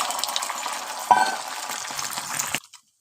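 An egg dropped into well-heated cooking oil sizzles in a steady broadband hiss with a brief louder crackle as it hits, then the frying cuts off abruptly near the end.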